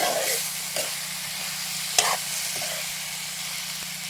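A pan of spiced drumstick vegetable masala is stirred and scraped with a spoon, giving a soft steady sizzle broken by several sharp scraping clicks, with no talking.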